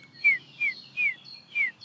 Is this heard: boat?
no